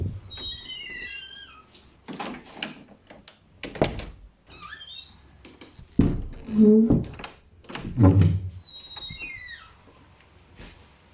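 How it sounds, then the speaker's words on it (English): A door bangs and thumps several times with sharp wooden impacts, mixed with creaking hinge squeaks and chirping high squeals between the hits. "The sound of the banging door is noise."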